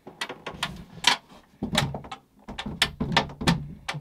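A sticking cabin door on a sailboat is worked back and forth, giving close, repeated thumps, rattles and scraping knocks in irregular bursts.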